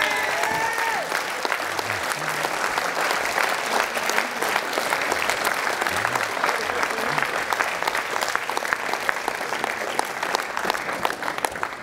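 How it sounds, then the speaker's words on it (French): Audience at a political campaign rally in Cahors clapping loudly and steadily for the full stretch, a dense crackle of many hands with a faint murmur of crowd underneath. "Alors on les applaudit les femmes!"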